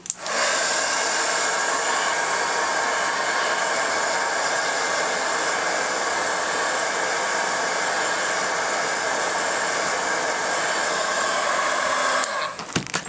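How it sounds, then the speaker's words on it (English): Heat tool blowing hot air over a craft project, a loud steady roar that runs unbroken for about twelve seconds and then cuts off with a few small clicks. "Hit this with the heat tool."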